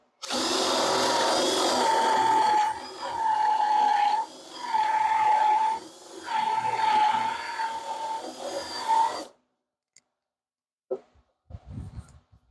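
A power drill with a 1.5-inch Forstner bit boring into a wooden 2x4 with a steady, high-pitched whine, running in several long bursts with short pauses, then stopping, followed by a few light knocks.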